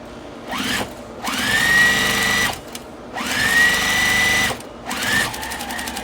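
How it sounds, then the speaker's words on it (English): A sewing machine stitches fabric strips for a mug rug in three separate runs. Each run winds up to a steady, close whir, holds for about a second or more, then stops, with short quiet handling gaps between runs. "And we're going to stitch that on."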